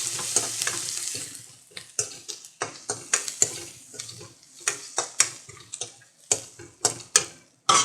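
Dried red chillies frying in hot oil for banana flower poriyal, giving crackling sizzles and sharp spattering pops along with the clink of a spoon stirring in the pan, close and without any talking.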